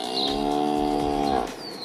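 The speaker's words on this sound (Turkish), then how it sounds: "Baba içeri inek girdi." A cow moos loudly and close by indoors, in a corridor of a house, one long sustained call with a few faint high background sounds.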